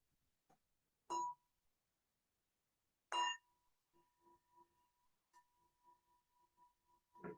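A meditation bell rings faintly in a quiet room, two clear strikes a couple of seconds apart followed by a long, thin, softly pulsing tone that lingers and fades.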